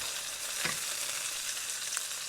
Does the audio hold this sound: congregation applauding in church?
no